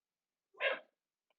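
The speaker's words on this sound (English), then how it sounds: "Was not expecting him to bark" A dog indoors near a crafting table gives one sudden, sharp bark, close and fairly loud, then the room falls quiet.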